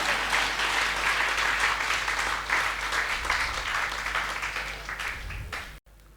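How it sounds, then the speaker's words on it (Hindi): A seated poetry-recital audience claps steadily in sustained applause, loud and close, tapering off briefly near the end. "तालियां बजाइए आप अपने लिए।"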